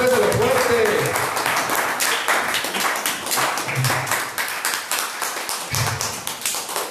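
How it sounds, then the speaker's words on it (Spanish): A church congregation stands and applauds loudly, with dense, rapid clapping from many hands and voices calling out beneath it, fading slightly toward the end. "Póngase de pie, denle un aplauso al Señor."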